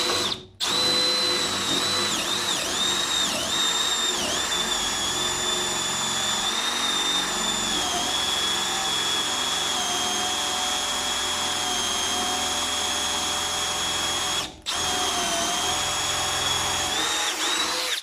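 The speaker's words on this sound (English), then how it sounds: "Here's a 1/2-inch drill bit. Let's see if we can drill through it." A Milwaukee M18 brushless cordless compact drill with a 1/2-inch bit boring through lumber whines steadily at high speed for the whole stretch, loud and close, with two brief drops where the trigger lets off.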